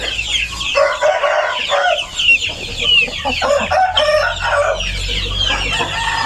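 Chickens on a farm cluck and crow repeatedly and loudly at close range, with overlapping calls filling the whole stretch and a low rumble underneath.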